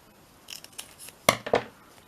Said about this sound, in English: Let me cut this off first.